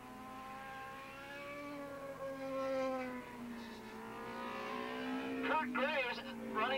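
Ducati and other 750cc Super Street racing motorcycles scream around Willow Springs International Raceway in 1987, a steady high engine whine shifting pitch, with a rising wavering pass from a nearer bike toward the end.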